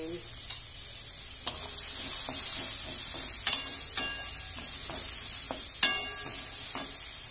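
Spices with turmeric sizzle steadily in a pan, a broad frying hiss broken by occasional stirring clicks and scrapes, fairly quiet and with no talk.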